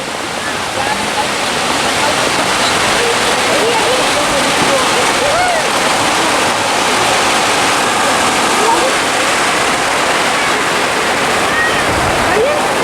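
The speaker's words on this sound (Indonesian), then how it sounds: "Ay, hujan." Heavy rain pours down on an outdoor Eid al-Fitr prayer gathering, a dense, constant roar of falling water filling the whole stretch, with faint voices of the congregation beneath it.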